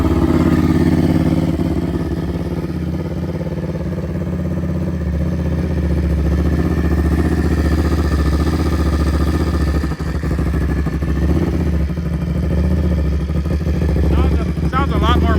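A Honda Grom motorcycle with a Ducati Panigale Arrow exhaust fitted idles with a steady, muffled, low engine rumble, loud and close throughout.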